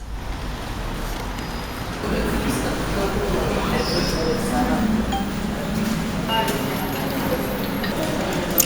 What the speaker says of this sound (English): And here it is, the Park metro station.